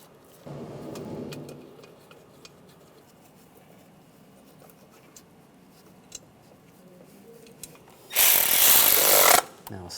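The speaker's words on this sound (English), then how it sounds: "Now we can put the bolts back in." A power tool runs on bolts of a 1996-2002 Toyota 4Runner engine during knock sensor replacement: a soft whir early, then a loud, close burst of about a second near the end amid quiet garage clatter.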